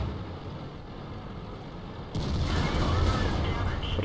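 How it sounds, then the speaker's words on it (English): A World of Tanks shot bounces off an E75 tank's armor with a sudden metallic clang and whoosh that cuts into a steady engine rumble, leaving a louder, rattling roar afterward. "I'm going to bounce a shot from their E75."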